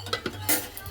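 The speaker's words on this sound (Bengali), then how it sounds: "এরপর আমি ঢাকাটা উঠিয়ে নিয়েছি।" A metal lid is lifted off a cooking pan on a gas stove, with a few light clinks and one brighter metallic scrape, close and brief, over a quiet background hum.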